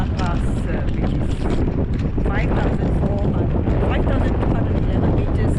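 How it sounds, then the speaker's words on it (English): Strong wind buffets the microphone in a constant loud roar on a 5,211-meter mountain pass in Tibet, with a voice talking faintly beneath it. "It's rather windy here."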